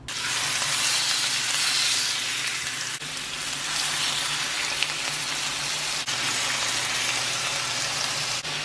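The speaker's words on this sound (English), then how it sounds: "Then you're just going to place the chicken in there." Chicken pieces frying in a teaspoon of oil in a skillet for jerk chicken give a steady, loud, dense sizzle that runs without a break, with no talking.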